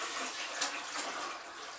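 Cold water poured into a Catalyst fermenter while making mead, a steady broadband gush of liquid lasting the whole moment, fairly quiet and close with slight surges in flow.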